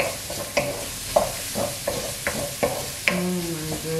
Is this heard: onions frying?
yes